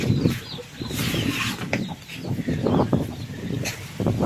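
Chickens cluck nearby in a busy, overlapping chorus, with some rustling and a bit of wing flapping.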